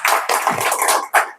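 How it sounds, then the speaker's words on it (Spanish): An audience breaks into loud applause for a guest at a talk about ghost stories from Spain, close and dense clapping that dips briefly and surges again near the end. "un aplauso, ¿no?"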